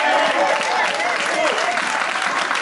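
A church congregation breaks into loud, sustained applause and cheering to praise the Lord, a dense wash of clapping filling the room.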